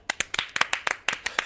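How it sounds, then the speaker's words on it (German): A small group clapping hands in applause, about a dozen quick sharp claps in an uneven rhythm, close and fairly loud, with no voices. "Das ist ein Applaus wert."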